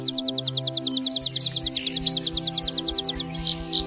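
Rapid, evenly spaced house sparrow chirps repeat in a steady run for about three seconds, close and fairly loud over a low background hum, ending with a couple of isolated calls.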